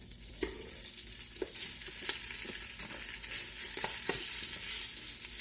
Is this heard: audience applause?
no